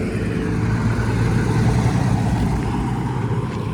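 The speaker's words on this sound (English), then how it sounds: "Truck." A truck rumbles past close by, a loud, steady engine roar that holds throughout without any talking.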